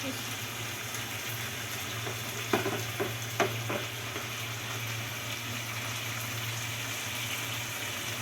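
Tilapia coated in spice paste sizzles in a pan over medium heat for homemade barbecue, a continuous near frying hiss with a few sharp crackles and clatters, a voice talking at times.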